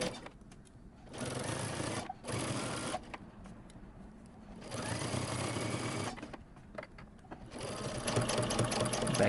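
A sewing machine stitching a Henley shirt placket seam, with backstitching at the start and end; several runs of steady, fast mechanical whirring separated by brief pauses, close and clear.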